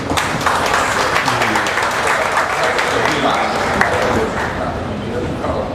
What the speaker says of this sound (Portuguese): Salva de palmas aí para